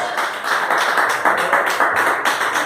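A church congregation at a Pentecostal healing and deliverance service claps hands together, a loud, continuous crowd applause with uneven pulses and no talk over it.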